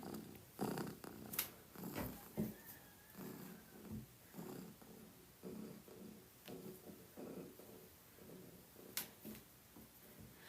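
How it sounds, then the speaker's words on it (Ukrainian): Soft, low rumbling purr from a Turkish Van cat close by, pulsing steadily with brief louder bursts and faint rustles, no talking. "ви можете навіть почути, як він муркоче"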